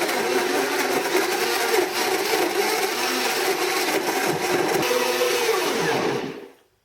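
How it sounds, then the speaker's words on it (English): Blender whirring steadily at high speed through the water and meat of two young coconuts, a loud continuous broadband roar that holds for about six seconds before spinning down and cutting off. "I got the water and the meat of 2 young coconuts in the blender."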